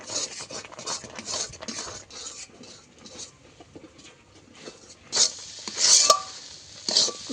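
Soft, intermittent scraping and rustling as rice flour for chaler naru is mixed by hand in a bowl, coming in short rhythmic strokes, with a few louder, brighter scrapes near the end.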